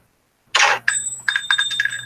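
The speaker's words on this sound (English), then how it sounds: "Get some kind of a text message here." Phone text message notification, a short bright burst followed by a quick series of chiming tones, close and clear in a quiet room.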